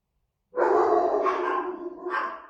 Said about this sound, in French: Les toutous se réveillent.